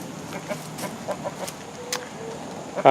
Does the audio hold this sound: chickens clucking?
yes